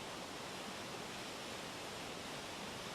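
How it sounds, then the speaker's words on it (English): Minnesota's tallest waterfall on the North Shore roars as a steady, dense wash of falling water, continuous and even throughout with no other sounds. "Listen to Minnesota's tallest waterfall."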